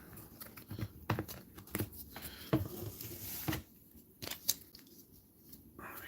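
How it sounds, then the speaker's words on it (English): A deck of cards is shuffled for a tabletop game of Way of the Samurai, with soft papery riffles and snaps in short irregular bursts, close and fairly quiet, and no one speaking. "I put the last card on the top after shuffling"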